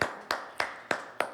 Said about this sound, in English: my team deserves a round of applause for that